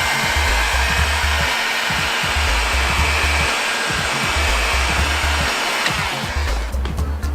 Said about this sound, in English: grab yourself either a hairdryer or a heat gun